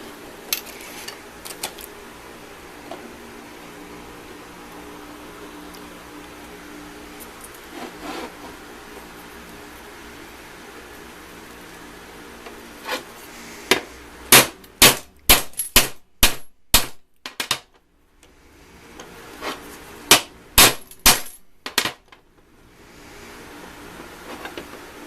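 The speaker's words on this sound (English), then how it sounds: "Connector and hit it with a hammer." Hammer blows drive a connector into place on a solar-powered pond pump: after a quiet stretch, roughly a dozen sharp, loud metallic knocks land in two quick bursts, close by and with no talking.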